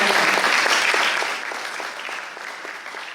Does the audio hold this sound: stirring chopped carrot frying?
no